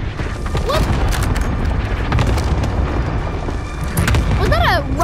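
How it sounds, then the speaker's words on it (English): Rocket launcher explosion in Call of Duty Modern Warfare, a loud deep boom with rumbling aftermath amid ongoing game noise, while voices talk over it. "Was that a rocket launcher?"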